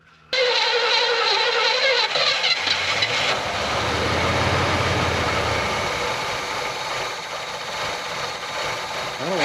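A 1968 Oldsmobile Cutlass V8 fires up and settles into a loud, steady idle with a deep low rumble, after a brief starter crank at the opening.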